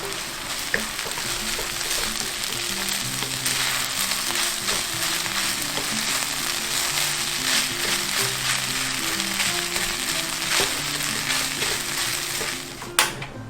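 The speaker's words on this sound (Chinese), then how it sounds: "放入隔夜饭，快速拌炒至汤汁完全收干" Leftover rice stir-fried in a hot pan for vegan Shanghai vegetable rice, its liquid cooking off, a continuous loud sizzle with frequent scraping and tossing of a spatula throughout, and a sharp knock near the end.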